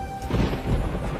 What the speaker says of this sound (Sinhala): ඒ බිහිසුණු හඬින් අහස ගිගුම් වුණා.